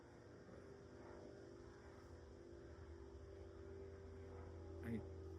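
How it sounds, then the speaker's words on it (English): A propeller airplane drones steadily overhead, a low continuous engine hum that swells slightly louder toward the end, with no talking. "It's perfect timing for this plane."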